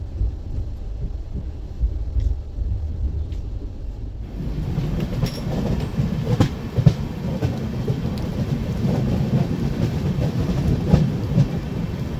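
The Mizoram Rajdhani Express runs on rails near New Jalpaiguri in the rain, a steady low rumble of wheels and carriage heard from inside. Partway through it grows brighter and louder, with faint clicks over it and no talking.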